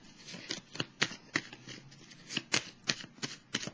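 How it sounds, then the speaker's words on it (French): Tarot cards are handled and drawn from a deck in a quick series of soft, crisp card flicks and slides, close and quiet, with no talk. "Je vais piger tout de suite une petite carte."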